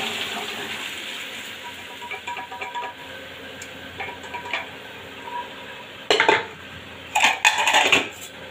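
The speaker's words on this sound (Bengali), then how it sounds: "এই সময় আমি সেদ্ধ করা মটন আলু সব একসাথে এর মধ্যে ঢেলে দেবো" Boiled mutton and potatoes are tipped into a pan of fried spice masala for mutton ghugni, with metallic scraping and clinks of pot and spoon building to louder clattering bursts toward the end.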